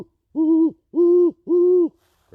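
Three deep, even hoots spaced evenly apart, a human imitation of a great horned owl's call, clear and alone.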